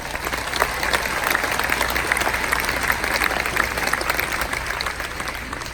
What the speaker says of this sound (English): please show your appreciation with another round of applause